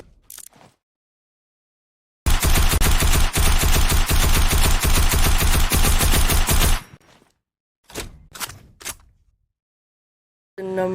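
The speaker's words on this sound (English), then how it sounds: "So, just listen to this gun. It sounds absolutely amazing." Rapid automatic gunfire from a weapon in Fortnite, one loud sustained burst of several seconds, followed by a few short scattered shots and clicks.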